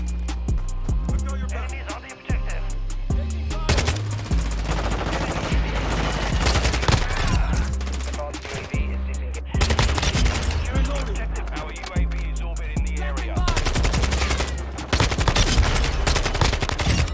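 Dense gunfire rattles almost nonstop in a Modern Warfare match, with automatic bursts aimed at a VTOL aircraft overlapping booming low impacts and a busy game soundscape.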